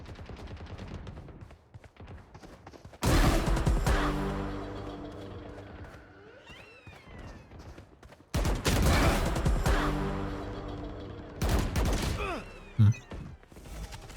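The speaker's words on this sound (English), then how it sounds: "Loki, that gun sounds nice." Bursts of rapid gunfire from a character's weapon in a video game, loud sustained volleys in two long strings with shorter shots after, a faint voice underneath.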